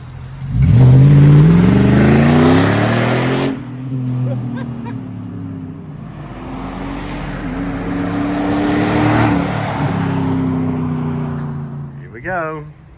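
A TUFF 62 car launches and accelerates hard, its engine revving up loudly in a rising sweep, easing briefly, then climbing again before a short high whine near the end.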